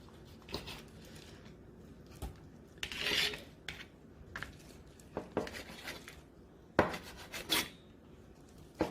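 A small cooked octopus being cut, with faint rasping, scraping strokes and occasional light clinks of a utensil against a plate. The strokes come in irregular bursts close by, and no voices are heard.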